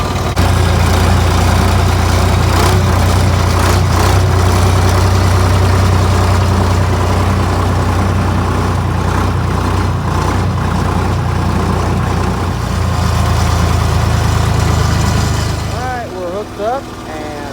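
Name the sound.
tractor engine idling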